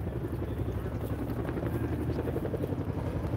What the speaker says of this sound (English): the Huey flying coming back